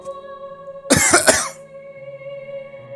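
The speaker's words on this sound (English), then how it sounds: "In the darkness, some pony coughed." A pony gives a single short, close cough that comes as a quick burst of two or three rough pulses. A steady quiet hum sits underneath in a dark, silent setting.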